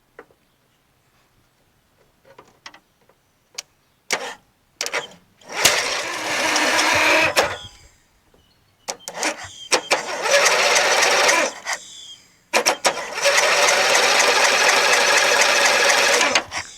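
Craftsman LTS1500 lawn tractor with a 17.5 HP engine cranking with choke on, scattered clicks and brief catches followed by three long, loud grinding bursts of starter cranking with gaps between, close by and without talk.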